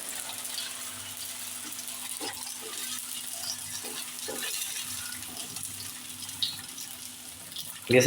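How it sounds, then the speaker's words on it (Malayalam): Snacks frying in a little oil in a pan, a faint, steady sizzle and hiss with a few soft stirring knocks, then a sharper clatter right at the end. "കുറച്ച് ഓയിൽ ഒഴിച്ച് നമുക്കിതൊന്ന് പൊരിച്ചെടുക്കാം"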